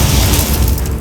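The Incendio fire spell bursts in Hogwarts Legacy, a loud, close, roaring blast of flame with a crackling, rushing texture that fades slightly at the end.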